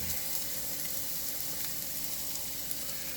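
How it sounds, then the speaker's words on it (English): Onions, garlic and peppers sizzle in a pan for a shrimp and sausage penne alfredo, a faint, even hiss that holds steady throughout with no talking. "Onions and garlic and peppers cooking."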